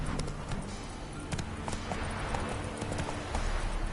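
Roach the horse's hooves in The Witcher 3: Wild Hunt, a steady rhythmic clip-clop of hoofbeats on the ground, close and clear, continuing throughout.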